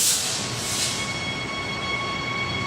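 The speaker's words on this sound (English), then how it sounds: "At the front of the train while it's departing" A steady rumbling rush of a train departing Cannington Station, heard from the front of the train, with a faint metallic hiss, continuous and fairly close.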